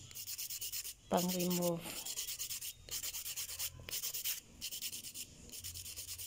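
Gel polish is buffed off fingernails in quick, rhythmic scratchy strokes, close and fairly loud, with a short spoken phrase partway through.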